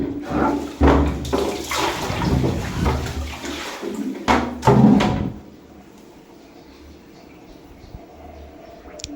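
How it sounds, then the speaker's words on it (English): Water poured into a slow floor drain splashes and gurgles loudly in uneven bursts for several seconds, with a few knocks, then fades to a quiet, low background. "let's pour some water."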